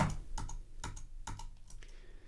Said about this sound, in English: I'm going to load Simpler into a rack by selecting it and hitting Command G